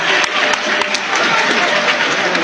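Loud, dense applause from a nearby audience at a political gathering in Mali, many hands clapping continuously without a break.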